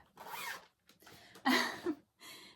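A zipper on a cross-stitch project bag is drawn open in several quick, close rasping strokes separated by short pauses, loud and clear with no talk.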